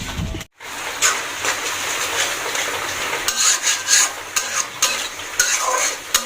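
Egg bhuna, an egg curry, being cooked in a pan: close, repeated stirring and scraping strokes against the pan with a light sizzle underneath, no voices.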